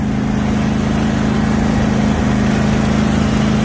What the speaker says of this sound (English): If you bear with me as we have a little ride on the mower